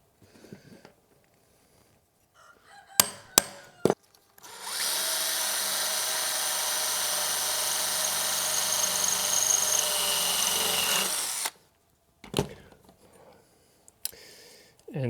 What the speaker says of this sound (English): So I'm gonna drill the second hole right here.